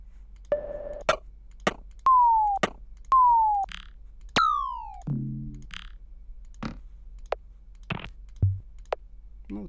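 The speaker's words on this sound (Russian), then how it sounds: "Возьмем любой сэмпл перкуссии" Short percussion samples play one after another in a music production program: dry clicks, snaps and tonal chirps, some sliding downward in pitch, each brief and separated by silence, with no voice.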